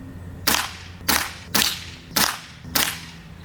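Umarex MarkPoint break barrel air pistol fired at a target, five sharp cracks spaced roughly half a second apart, each with a short tail.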